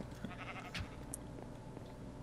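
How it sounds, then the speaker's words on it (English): A Minecraft sheep bleats a couple of times, brief and fairly faint, against low background game sound. "It's a sheep in here."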